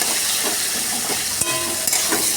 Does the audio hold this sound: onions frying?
yes